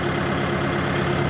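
A heavy diesel tractor engine idles at low revs while hot, a low, steady rumble, close and continuous throughout.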